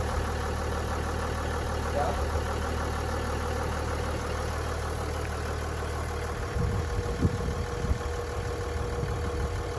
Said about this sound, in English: now start the car back up